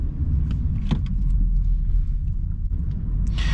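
A petrol Volkswagen Passat engine rumbles steadily at close range, a low continuous drone with faint clicks and a brief higher hiss near the end.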